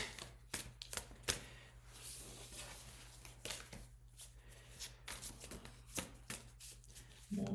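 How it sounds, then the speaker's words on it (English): Large tarot cards being shuffled by hand, a run of soft papery riffles and slaps in irregular bursts close to the microphone, over a low steady hum with no talking. "This one's also a little bit hard to shuffle because it's bigger."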